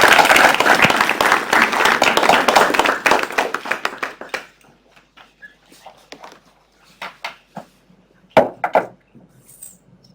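An audience applauds to welcome a speaker at an arts talk: loud, dense clapping that fades after a few seconds into scattered, sparse claps and a few isolated louder ones.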